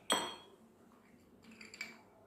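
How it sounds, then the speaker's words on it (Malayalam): Ice cubes dropped into a glass for cold coffee: one sharp clinking clatter at the start, then a couple of lighter, fainter clinks a moment later, with no one talking. "അപ്പോൾ നമുക്ക് ഐസ് ഇട്ട് കൊടുക്കാം"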